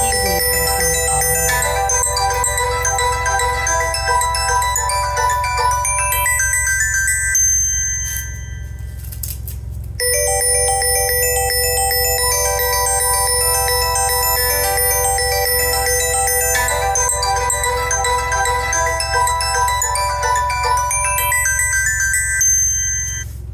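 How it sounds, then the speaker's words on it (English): A phone ringtone plays loud and steady for over twenty seconds, a bright repeating bell-like melody with a brief pause partway through, heard alone without talk. "Excuse me for the phone call."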